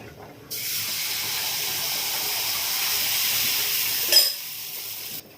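Ghee sizzling in a hot pan while proso millet pancakes cook, a steady bright hiss that starts abruptly, runs evenly for several seconds with a brief louder crackle near the end, then cuts off.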